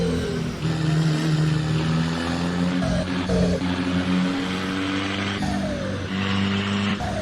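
Isuzu D-Max 2024 pickup accelerating in Assetto Corsa, its engine droning and rising in pitch through gear changes on a mountain road, with steady tyre and road noise underneath.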